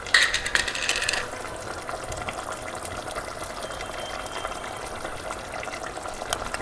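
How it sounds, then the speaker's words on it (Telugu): Chicken pulao simmering in a pot at home, a steady soft bubbling and hiss that carries on evenly throughout, with a brief brighter clatter near the start. "సో ఉడుకుతుంది కదా"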